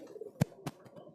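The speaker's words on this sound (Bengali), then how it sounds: "খুব সুন্দর পায়রা" Pigeons in a breeding loft give two soft, low coos a moment apart, close by and otherwise quiet apart from faint rustling.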